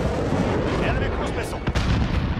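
Cruise missile launch in Modern Warfare, a dense roaring rumble with booming blasts and a few sharp cracks, loud and continuous under voices.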